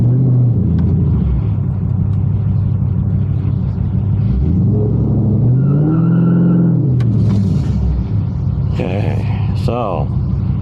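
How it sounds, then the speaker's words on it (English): A car on Nitto 555R2 drag radials does a burnout, its engine droning and revving up and down in loud sweeping pitch rises under steady tire noise, close by and continuous. "Anyway, we'll do a burnout here."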